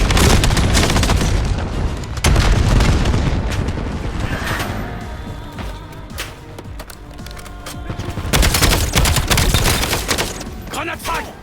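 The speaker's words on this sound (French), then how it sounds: "Grenade à dispersion lancée." In a Call of Duty Black Ops 7 zombie prison escape, bursts of gunfire and booming cluster grenade explosions rattle loudly and densely, with a lull midway before another heavy volley.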